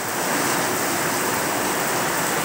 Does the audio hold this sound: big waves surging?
yes